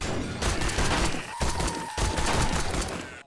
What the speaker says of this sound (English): I got this new pipe machine gun that I could test out.